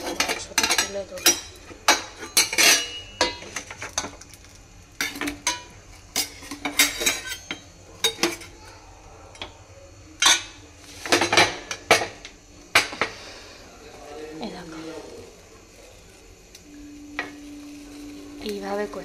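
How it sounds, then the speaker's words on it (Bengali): Mutton curry is ladled into a bowl beside butter naan, with a string of sharp clinks and scrapes of utensils against dishes close up, coming in irregular bursts, followed by quieter handling. "আমি এবার বাটিতে মাংসটা তুলে দেবো"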